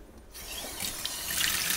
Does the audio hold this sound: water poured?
yes